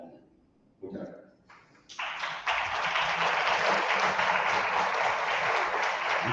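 An audience at a talk on God and the pandemic breaks into applause, beginning with a few scattered claps that swell after two seconds into steady, dense clapping that continues to the end.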